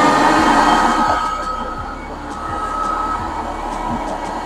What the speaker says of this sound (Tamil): மிஷினை போட்டாச்சு.